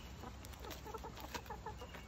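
Backyard chickens cluck softly in a quick series of short, faint calls, distant and alone.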